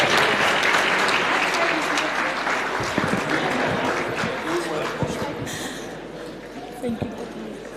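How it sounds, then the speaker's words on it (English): Loud, sustained applause from a large crowd at a school awards function, dense clapping that slowly thins toward the end, with some voices mixed in. "Let's give them a big round of applause as they descend the stage"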